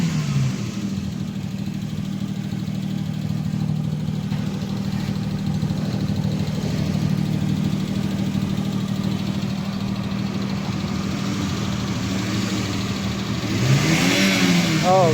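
A Maruti Omni van engine, freshly serviced with three new spark plugs, runs steadily on LPG with a constant close-up drone and a slight rev near the end; no one speaks.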